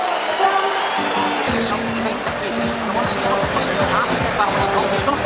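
A Belfast boxing crowd cheers and roars for fighter Conlan in an arena, a dense, loud, sustained wall of shouting with rhythmic chanting pulses, while a commentator talks over it.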